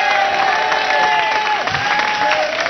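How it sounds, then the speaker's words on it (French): An audience applauds and cheers for pastry chef Philippe Swann on a television music show, a steady loud wash of clapping with whistles and shouts running throughout. "Si vous voulez applaudir Philippe Swann,"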